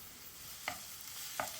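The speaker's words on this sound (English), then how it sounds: "I'm going to stir fry this now for about 8 to 10 minutes until it just starts to turn brown" Onion, red pepper and garlic stir-fry in oil over medium heat, giving a faint, soft sizzle with two brief scraping strokes of a utensil, quiet and close.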